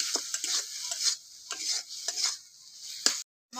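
Spice paste with salt and sugar sautéing in a pan for a bata fish curry, heard as rhythmic spatula scrapes and stirs over a light sizzle, close and moderate, briefly cutting out near the end.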